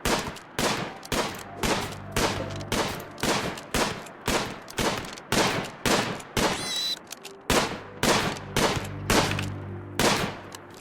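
Rapid, evenly spaced gunshots from a hunting colonist in RimWorld fire in a steady, loud rhythm across the whole stretch, with a brief pause partway through before the shooting resumes.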